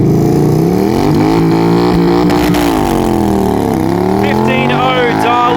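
Motorcycles, one a Yamaha Virago, launch in a drag race at Perth Motorplex with loud, rising engine roars that climb through revs and shift, filling the clip, with an announcer's voice mixed in.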